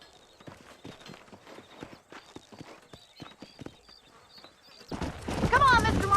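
Horses clip-clop steadily on hard ground in the Western video game Red Dead Redemption, the hoofbeats sounding moderately near while a faint tone runs behind them, then louder clattering and a whinny-like burst swell up at the end.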